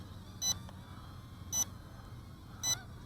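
A JXD 399 micro drone in headless mode gives three short, evenly spaced beeps about a second apart over a steady motor whir.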